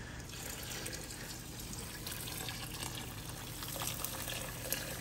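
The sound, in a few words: hot water poured into gumbo pot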